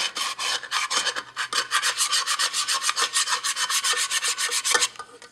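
A pot scraper rasps burnt rice off the scarred bottom of a cooking pot in quick, steady back-and-forth strokes, loud and close, roughly thirty scrapes in a row with no talking.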